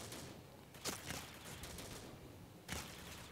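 Gunfire in the Critical Ops mobile shooter, heard as two faint, brief bursts of shots separated by a quiet stretch in an otherwise hushed game scene.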